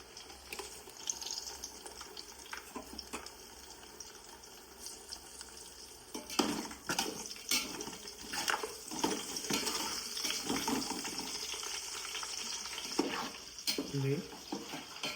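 Garlic and green chillies frying in oil for a country chicken pulav: a low, steady sizzle with stirring clatters and scrapes growing busier midway, close but quiet, with a brief voice near the end.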